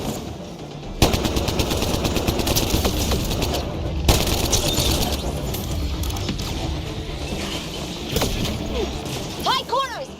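Sustained machine-gun and rifle fire in Mass Effect Andromeda, a dense rattling barrage with sharp bursts and impacts, loud and close, while voices shout over the combat and a few whooshing effects rise near the end.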